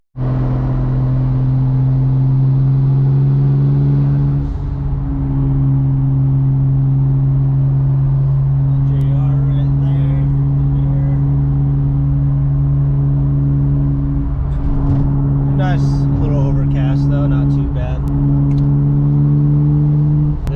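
Toyota Supra Mk5 cruising on a drive, a steady low engine drone heard from inside the car with brief shifts in pitch, continuous and fairly loud throughout.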